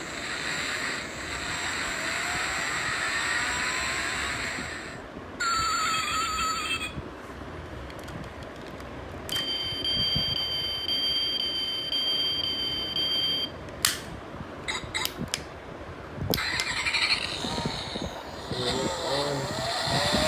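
Ford Raptor diecast metal pull-back toy car playing its electronic sound effects, with bursts of bright beeps, whinny-like sirens and chirps that cut in and out over a steady hiss, close and fairly loud, no talking.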